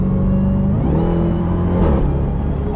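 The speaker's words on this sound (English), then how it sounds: "Oh, that exhaust, jeez." A 707 hp Jeep Trackhawk's exhaust rumbles loud and close, a deep steady drone that swells as the engine accelerates, with no talking over it.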